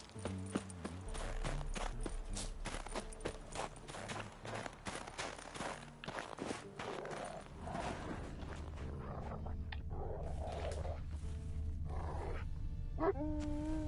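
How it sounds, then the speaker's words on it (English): Horse hooves clip-clop in the video game The Witcher 3 next-gen update, a steady run of sharp hoof strikes that thins out later beneath ambient game sounds and tones. "Okay, this is a horse right here."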